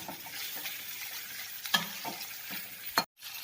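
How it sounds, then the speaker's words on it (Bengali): Pigeon meat sizzles in oil in a pan while it is stirred, with a steady frying hiss and a few sharp scraping stir strokes recurring at intervals, ending in a brief clatter before quiet. "এগুলিকে ভালোভাবে কষিয়ে নিতে হবে যাতে তেলগুলো মাংসের থেকে উপরে উঠে যায়।"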